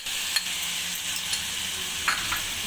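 Finely ground ginger sizzles as it fries with garlic in a pan for sarson ka saag, a steady close frying hiss with a few brief clinks of stirring and no talk.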